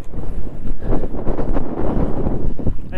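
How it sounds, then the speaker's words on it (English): Strong, relentless wind at Cottonwood Lakes in the high mountains, battering the microphone with loud, gusty, rumbling buffeting that barely lets up. "I mean, look at this wind."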